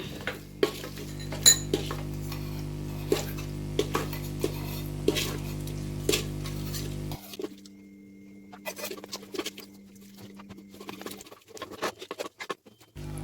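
A spoon scrapes and clinks against a clay pot as mutton biryani is stirred, steady patter and taps, then quieter scraping toward the end.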